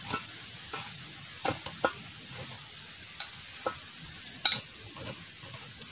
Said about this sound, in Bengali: এরকম করে কুচাই নিচ্ছি, কুচি কুচি করে কুচাই নিচ্ছি।